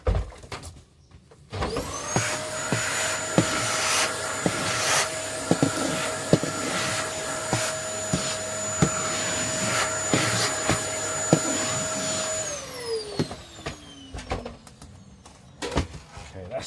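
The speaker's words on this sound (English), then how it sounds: "Just give it a light vacuum." A vacuum cleaner starts up with a rising whine, holds a steady loud drone while picking up sanding dust from a model railway goods shed, knocking and bumping as the nozzle moves, then winds down near the end.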